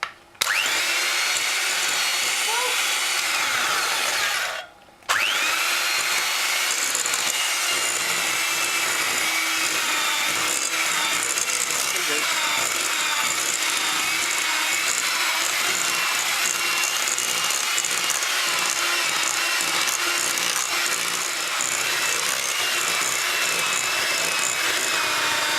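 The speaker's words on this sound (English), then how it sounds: "an electric whisk is better because it mixes more faster and it mixes better" An electric whisk beats sponge pudding batter for a microwave sponge pudding, giving a steady, close motor whir that runs almost without a break, apart from one brief stop early on.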